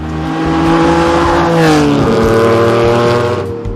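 A Lamborghini Countach supercar drives past with a loud, steady engine drone that swells in the middle and eases slightly toward the end, with no talking.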